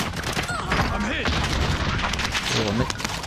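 Rapid gunfire bursts from the SA87 light machine gun in Call of Duty: Warzone, loud and close, with a player talking over the shots throughout.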